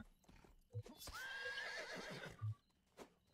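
A horse in the Western video game Rustler gives a loud whinny, a rising, strained neigh, with a few heavy hoof thuds and clops before and after it. The sound is fairly close, with quiet game background around it.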